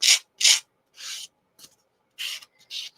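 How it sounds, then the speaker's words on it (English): A sanding block rubbing the edge of a playing card, the four of diamonds, in short dry rasping strokes, about six or seven separate scrapes with brief pauses between them, close and clear. "Good old Mr. Sanding Block is the easiest way I've found to do this."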